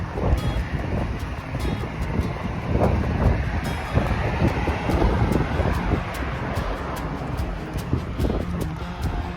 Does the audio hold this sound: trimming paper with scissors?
no